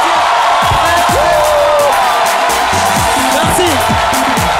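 A comedy show's live audience cheers and whoops, crowd noise running steadily throughout, with scattered clapping mixed in and loud, sustained shouting voices on top.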